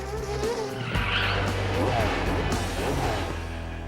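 Race car with squealing tires arriving at a track, engine droning under a sharp skid that rises and fades in waves.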